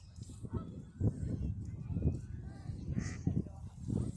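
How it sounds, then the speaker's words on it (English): Mallard ducks quacking and honking in a rough, repeated chorus, close by, with steady waterfowl calls throughout. "there's so many mallard ducks right here. She's just seeking out for a male. That's why she's quacking."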